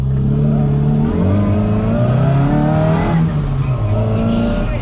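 A Mk1 Mini Cooper S engine revs hard and climbs through the gears, loud and close from inside the car, with rising harmonic pitch sweeps broken by brief gear changes.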